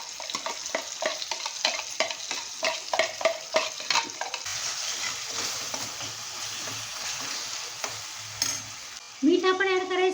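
Chopped tomatoes stirred into onions frying in oil for Surat-style anda ghotala, with repeated spoon scrapes against the pan, then a steady sizzle, a clatter near the end and a brief tonal beep.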